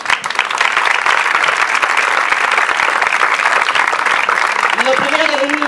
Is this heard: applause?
yes